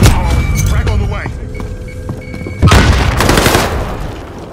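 A frag grenade going off in Call of Duty: Modern Warfare, a heavy booming blast with scattered gunfire around it and a voice talking over the action.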